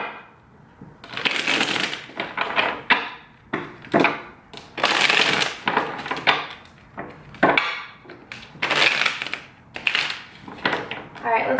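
Tarot cards being shuffled by hand in repeated bursts of papery riffling and soft tapping, close and fairly loud, with pauses between shuffles.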